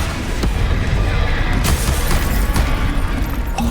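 Loud, dense booming blasts from the Bombarda spell in the Hogwarts Legacy video game, a continuous roar of explosive impacts with sharp pops layered over heavy low rumble throughout.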